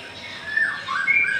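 Kept caged songbirds give a short burst of shrill, raspy squawking calls, close and fairly loud, with no voices.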